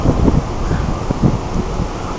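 Strong wind blusters steadily outdoors at Namba Parks in Osaka, a loud low rumble buffeting the microphone with gusty pulses throughout and no talk.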